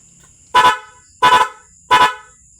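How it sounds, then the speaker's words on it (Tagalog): Three loud, evenly spaced blasts from an aftermarket loud car horn ring out close by, each a bit longer and fuller than a stock horn's toot, with quiet hum between them. "Loud horn."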